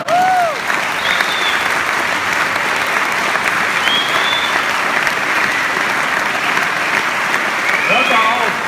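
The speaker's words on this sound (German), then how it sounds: "Applaus." Loud, dense applause from a large audience, continuous and even throughout, with a few whistles and cheers rising above the clapping.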